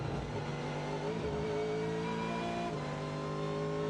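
A Corvette race car engine at the Daytona 24-hour race sounds from the high banks of turns 3 and 4, a loud sustained roar with rising and falling pitch as the car accelerates and shifts gears.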